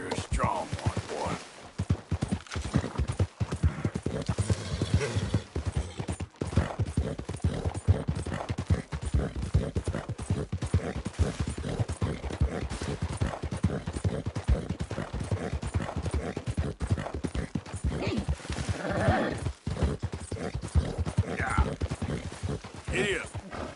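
Horse hooves clip-clop in a Western video game, a steady rapid trotting rhythm that carries throughout, with people talking over it.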